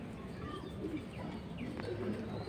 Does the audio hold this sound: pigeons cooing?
yes